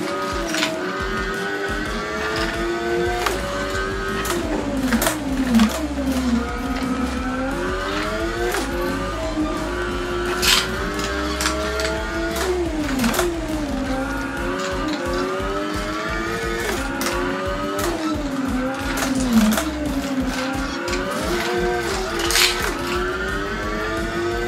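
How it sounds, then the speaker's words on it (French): A Caterham sports car laps the Charade circuit in the racing game Assetto Corsa, its engine revving continuously with rising and falling gear-change sweeps, loud and close, with no talking. "J'ai pris une petite Caterham et je suis allé sur le circuit de Charade."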